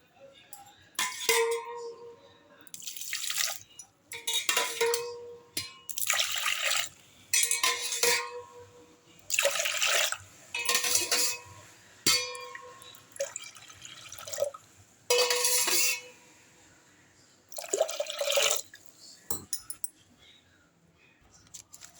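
Water poured into a pot for rice porridge in a home kitchen, heard as a series of splashing pours and clinking vessel sounds in short bursts, close by with no talking.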